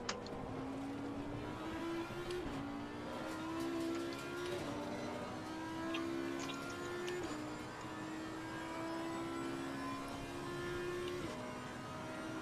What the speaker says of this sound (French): Yes, je fais du drift.